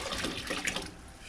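Water runs steadily into the tank of an 8-gallon Vevor ultrasonic cleaner, a quiet, continuous splashing and rushing with a few brighter spatters.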